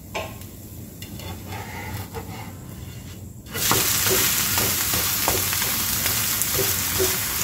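Yadani, a traditional Maharashtrian pancake, sizzles on a hot griddle; the frying starts soft and quiet, then swells suddenly into a loud, steady hiss as the pancake is flipped onto the pan.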